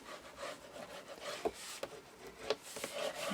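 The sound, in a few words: burnishing paper down on an album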